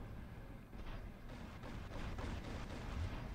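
Gunfire and explosions in the mech combat game War Robots: a dense, continuous rumble of heavy artillery-like blasts and shots, loud and steady, with no voices.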